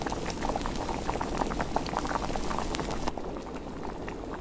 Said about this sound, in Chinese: 水开煮个五六分钟哈